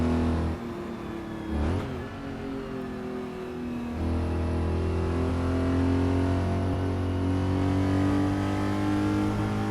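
A 1967 Porsche 911R's 200-horsepower engine drives in the Assetto Corsa racing game, droning steadily with a brief rev and gear change, then a sustained, louder engine note holding at high revs.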